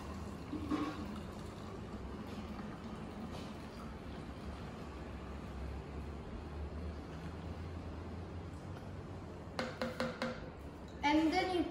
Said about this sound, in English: So first you have to pour both the tonic water and soda water into the bottle.